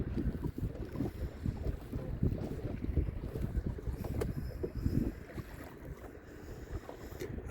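A motorboat pushes up the Ohio River through big rolling waves, its low engine rumble and hull slap steady and close, with heavy wind buffeting the microphone throughout.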